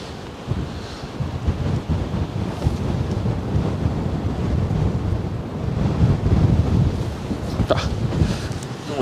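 Strong wind blows along the Westerschelde shore and buffets an outdoor microphone, making a loud, continuous roar with gusty rumbling swells throughout, and no one speaks.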